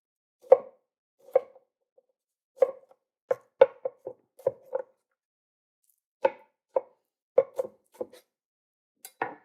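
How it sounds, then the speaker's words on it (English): A knife dices an onion on a cutting board while gumbo is prepared, making crisp, close taps in short irregular bursts separated by brief pauses, with no other sound. "So this end holds the onion together while you're dicing it."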